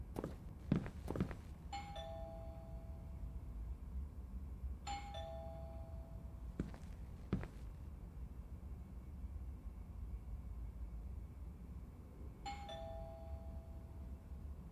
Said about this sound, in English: I should just ring the doorbell, see if he answers.